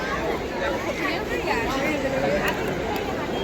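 Crowd chatter fills the Kala Ghoda festival in Mumbai: a dense, continuous babble of many nearby voices with no single speaker standing out, and a few brief sharp sounds toward the end.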